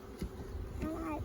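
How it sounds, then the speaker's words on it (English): A low, close buzzing hum of honey bees drones through the short moment during a hive installation, with a voice briefly audible over it. "These are your bees."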